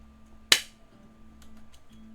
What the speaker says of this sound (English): If you can hear me, clap once.